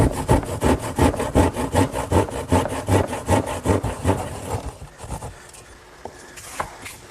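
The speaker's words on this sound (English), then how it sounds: "now I'll just finish off the corners using my trusty old hand saw." An old hand saw finishes the corners of a wood panel for a Shaker two-drawer blanket chest, with about five seconds of quick, even back-and-forth strokes up close, then quieter handling sounds once the cutting stops.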